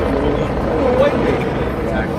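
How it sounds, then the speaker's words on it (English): A steady low helicopter drone fills the background over an anti-ICE protest in downtown Los Angeles, continuous and moderately loud, with muffled voices and chatter mixed in. "I have more helicopters"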